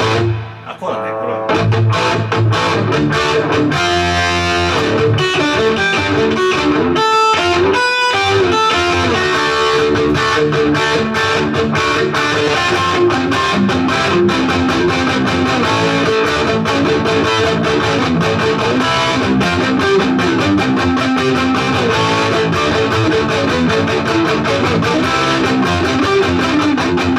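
A loud, distorted electric guitar, a rare Japanese-made Mosrite Ventures model with a maple body and EMG pickups, plays continuously with a light reverb tail, layered effects thickening the tone throughout.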